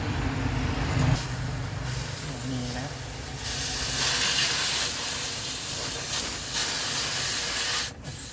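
Refrigerant hissing from the service fitting of a Carrier XPower inverter condo air conditioner running R32, a broad steady hiss that swells after a brief burst and holds loud, with a faint voice early on.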